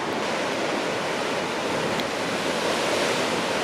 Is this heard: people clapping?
no